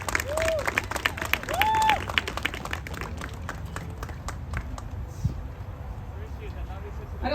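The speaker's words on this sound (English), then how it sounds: "I'm going to go ahead and give them a round of applause." Scattered applause for a high school marching band at an outdoor dress rehearsal, thin and fairly distant clapping under a brief swell of cheering, fading into light crowd noise.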